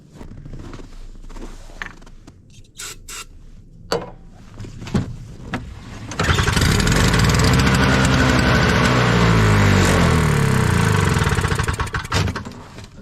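A Toro snow blower with a faulty carburetor, sprayed with ether, gives a few creaks and clicks from the pull start, then the small engine catches and runs loud and steady before easing down.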